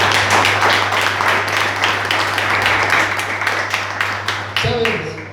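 Church congregation applauding in a dense, continuous wash of clapping that fills the space, with a steady low hum underneath; it cuts off abruptly near the end as a voice begins.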